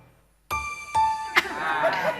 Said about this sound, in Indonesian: terdengar bunyi bel seperti ini